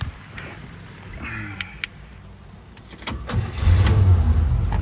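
A 1957 Chevrolet Bel Air with a bored-out 283 V8 and Power Pack heads cranks briefly, then catches and settles into a loud, steady rumble close by, with a few clicks and clunks before it fires.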